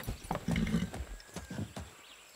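Horse hooves clip-clop at a riding pace in the Far Cry 6 video game, with a few distinct hoof strikes over a short stretch and a brief whinny-like snort near the start.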